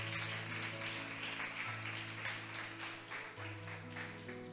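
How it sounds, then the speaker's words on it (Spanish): Church congregation applause, many hands clapping in a sustained, fairly even patter that sits over a held electronic organ or keyboard chord, heard at a low level from some distance. "¿Cuántos le dan un aplauso al Señor"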